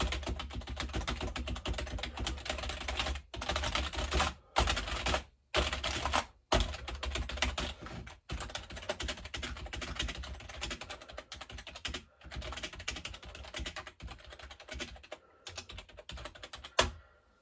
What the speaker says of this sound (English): I guess that's what typing was like on a Windows X